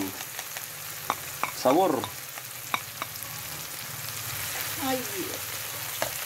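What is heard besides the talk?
tomato frying with garlic and mint in a pan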